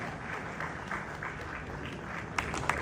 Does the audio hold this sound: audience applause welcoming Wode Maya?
yes